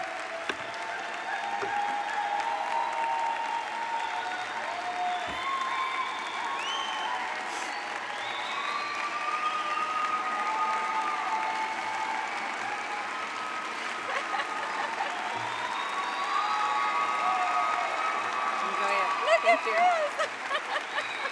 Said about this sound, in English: please help me in giving Maggie a round of applause